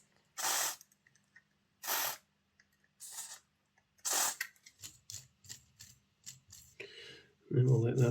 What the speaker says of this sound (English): Going to give the axles a good blast with some contact cleaner.